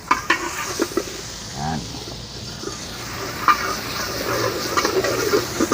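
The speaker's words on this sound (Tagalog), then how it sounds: "So, magigisa muna tayo ng butter." Butter sautéing in a pan for mixed seafood, a steady soft frying sizzle with intermittent stirring and scraping under a voice speaking briefly.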